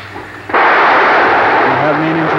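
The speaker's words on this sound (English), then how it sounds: "We have main engine start." Space shuttle Endeavour's main engines ignite on the launch pad, a sudden loud broadband roar bursting in after a quieter stretch and holding steady and powerful, with faint radio voices underneath.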